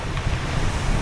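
Sea waves wash onto the beach at Koh Rong's Long Set shore in a brief, steady surf roar mixed with wind buffeting the microphone.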